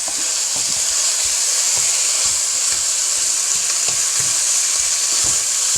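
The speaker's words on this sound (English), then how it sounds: "I'm gonna just add my mince to the pan." Mince browns in a hot pan with a loud, continuous frying sizzle and hiss, punctuated by regular stirring scrapes and knocks throughout, close up with no talking.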